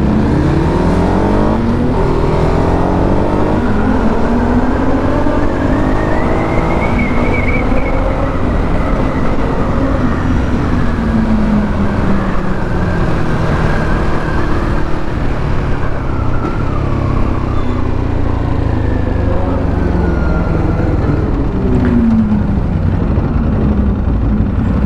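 Loud engine of a Ducati Hypermotard 821 motorcycle while riding, rising and falling in pitch through revs and downshifts with engine braking, heard close over steady wind and road rumble, no talk.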